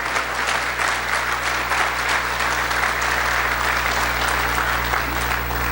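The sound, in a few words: congregation applauding in church service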